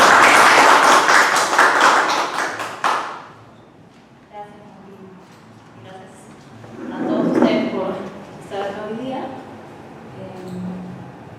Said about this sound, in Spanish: pido un fuerte aplauso para Daniel entonces